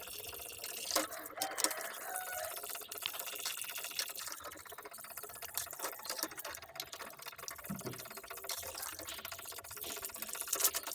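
Water runs steadily into a gallon jug, a continuous splashing pour with faint dripping, close by and without talk.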